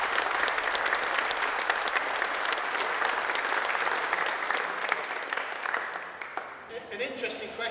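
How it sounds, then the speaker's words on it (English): Audience gives a round of applause for two guests at a motorsport talk show, a sustained crowd clapping that fades near the end as a voice begins speaking. "a round of applause for these two guys for last weekend"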